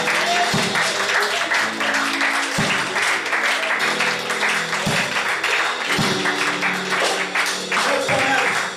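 A church congregation claps steadily and loudly at a worship service, continuous applause with a few heavier thumps recurring roughly every second or so underneath.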